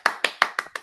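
An audience claps in unison, five sharp, evenly spaced claps in under a second, moderately loud and without voices.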